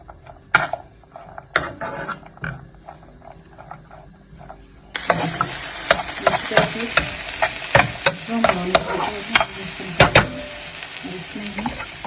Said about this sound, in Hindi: इसमें मशरूम और प्याज डाल के मैं हल्का सा सौते करूंगी ताकि इसका टेस्ट आ जाए